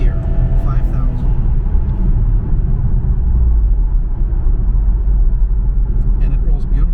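Engine and road rumble from a 2004 Subaru Impreza WRX STi driving in third gear, a steady, loud low drone inside the car with someone talking over it.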